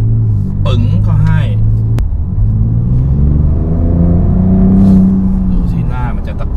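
Ford Ranger Raptor engine droning steadily while driving, a continuous low rumble with rising and falling tone from cabin, under intermittent talk.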